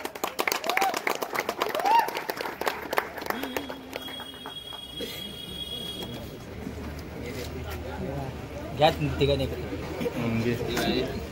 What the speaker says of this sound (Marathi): या टीम साठी खरंच टाळ्या वाजवा, खरंच.